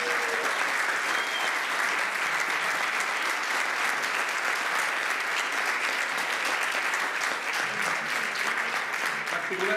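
A conference audience at a closing session claps steadily for about ten seconds, dense sustained applause from many hands with a faint murmur of voices mixed in.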